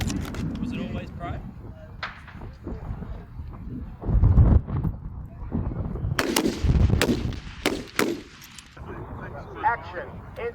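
Rifle shots from an 03A3 rifle at a windy 200 m snap match ring out as several sharp reports spread across the clip, with wind buffeting and people talking in between.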